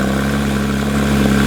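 The motorsport-derived engine of a Porsche 911 Speedster runs steadily with a deep, loud, close drone and no voices.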